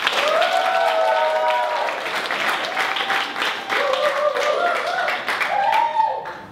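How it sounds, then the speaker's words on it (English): Steady audience applause at a talk on inviting and closing, a dense wash of many hands clapping close and loud, with scattered voices and cheers rising through it. "Please give a round of applause for this one."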